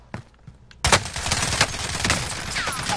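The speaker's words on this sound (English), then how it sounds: "You're shooting at nothing right now." Rapid gunfire in a video game, a sharp burst after a brief quiet then dense overlapping shots, loud and close.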